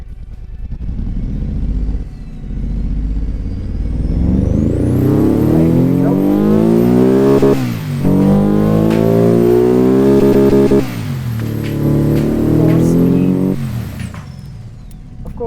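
A video game car engine with a very rich air-fuel ratio revs up and down in repeated loud, close bursts, popping and banging on the overrun between pulls, after a brief spoken line at the start.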